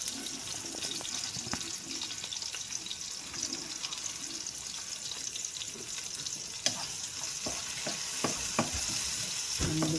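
Scrambled egg sizzling in a frying pan, a steady broadband fry with occasional clicks and scrapes of a utensil, close and continuous, with faint water-like hiss throughout and no talking.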